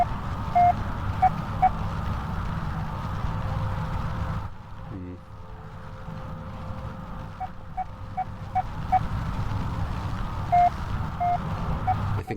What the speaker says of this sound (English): Oh, a comm radio. That beeping coming from the speakers.